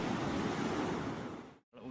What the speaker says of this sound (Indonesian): ombaknya sudah besar di sini